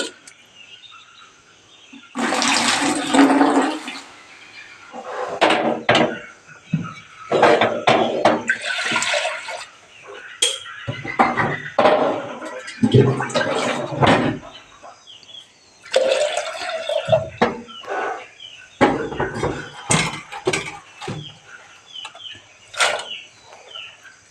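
Toor dal (pigeon peas) is washed in water in a village home kitchen: repeated sloshing, swirling and pouring bursts, fairly loud and close, with brief pauses between rounds and no talk.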